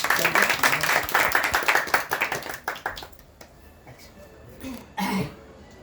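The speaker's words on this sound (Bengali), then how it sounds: "সবাই হাততালি দাও" A room of students claps together for their teacher at a Teachers' Day gathering, with dense, lively applause that thins out into scattered claps before a brief final burst.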